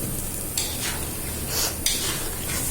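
Potatoes hit hot oil with fried chili and coriander powder spices for a fish curry, giving a bright, steady sizzle close up, broken by a few sharp stirring scrapes in the pan.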